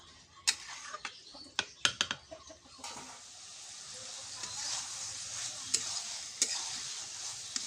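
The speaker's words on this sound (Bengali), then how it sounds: "ভালো করে নাড়াচড়া করে যেটুকু জল আছে এই জলটা আমি শুকনো করে নেব" Ash gourd curry with coconut being stirred in a pan while the last of its water cooks off: sharp spoon scrapes and clacks at first, then a steady broad sizzle with occasional stirring taps, close and alone.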